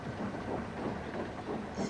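Steam locomotive from a Thomas the Tank Engine style model-railway story pulling away on a main line, a steady rumbling chuff with rhythmic rail clatter and hiss, moderately close and alone.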